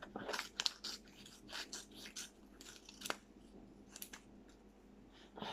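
Scissors cutting through material during a crafting session, giving a run of quiet, crisp snips at an uneven pace with soft handling noises between them.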